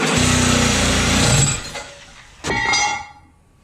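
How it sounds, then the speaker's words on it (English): A Sawzall reciprocating saw cutting wood for a flatbed build on an F350 truck, a loud buzzing burst that cuts off, then a second shorter run after a brief pause. "we're gonna make a bunch of noise with this here Sawzall"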